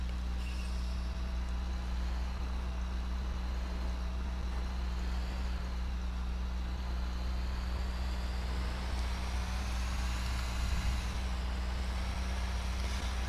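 A truck cruising slowly in the game GTA 5, its engine a constant low drone with road noise and faint whining tones rising and falling, steady and close throughout, no speech.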